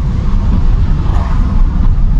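A manual-transmission car's engine gives a loud, steady low rumble from inside the cabin while the driver shifts through the gears. The drone stays constant, with no clear rev change.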